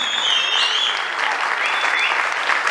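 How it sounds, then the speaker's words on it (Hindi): Enthusiastic audience applause with whistles rises from a crowded award ceremony honouring Sonu Nigam, dense continuous clapping with high whistles sliding above it. "अरे दिल से सीटियां और तालियां बजा लो"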